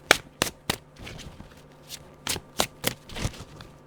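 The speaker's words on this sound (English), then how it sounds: "And so what I would do is kind of pull cards" Tarot cards are pulled from a deck and handled, giving a sparse series of short, crisp snaps and light slaps, quiet and close, with no talking.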